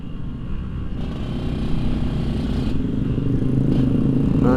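A Honda CBR motorcycle rides past on a road at night, its engine a steady, fairly loud rumble blended with traffic noise and wind, holding even for several seconds without a clear peak.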